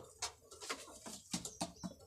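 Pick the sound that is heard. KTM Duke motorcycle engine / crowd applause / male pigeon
male pigeon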